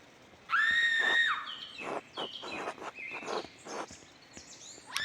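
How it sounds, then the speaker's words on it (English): A shrill scream rings out in the medieval mystery game Pentiment, a long high cry followed by a string of shorter wailing shrieks, loud and close with no talk over it. "I heard a scream!"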